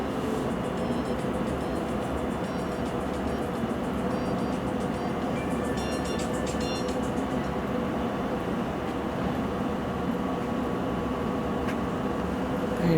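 A District Line train pulls into Upminster Station on a winter afternoon, a steady broadband rumble that holds throughout, with faint high squeals and tones from the rails and platform equipment.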